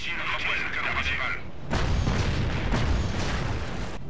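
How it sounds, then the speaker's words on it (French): A creeping artillery barrage in Company of Heroes: Opposing Fronts during the liberation of Caen, a high whistling shell followed by heavy booming impacts and rumbling bursts in quick succession, loud and close. "Enfin, nous avons le barrage roulant. Pour effectuer des tirs de barrage roulant."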